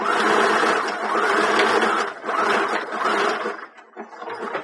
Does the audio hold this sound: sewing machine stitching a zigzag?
yes